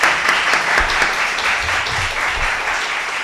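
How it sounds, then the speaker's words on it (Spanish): Audience applause welcoming a writer at a literary talk on a university campus, a steady even wash of clapping for a few seconds with no speech over it. "Le damos un aplauso por él."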